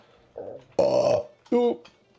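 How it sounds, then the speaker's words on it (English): A man's burp sounds out loud and close, with short vocal noises just before and after it. "Daddy burped."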